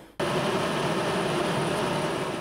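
A steady, loud engine roar from an airplane at Goma airport, a continuous drone that begins abruptly and holds level throughout with no voices.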